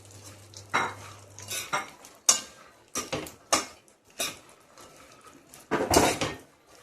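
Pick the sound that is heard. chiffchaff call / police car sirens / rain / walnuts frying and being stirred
walnuts frying and being stirred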